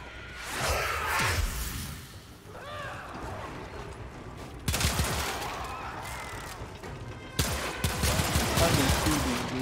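Gunfire crackles in a Warframe mission, bursts of rapid shots and a fusillade over busy combat noise with whooshes and mechanical clatter, loud and close, with two heavy volleys standing out.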